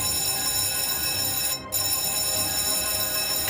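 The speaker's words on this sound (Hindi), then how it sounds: "आर्यन ने थैली के अंदर से एक पुरानी तांबे की घंटी निकाली।" An old copper bell rings out with a sustained, shimmering metallic tone that hangs steadily throughout, briefly dipping in the middle before continuing.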